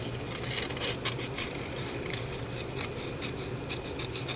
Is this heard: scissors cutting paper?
yes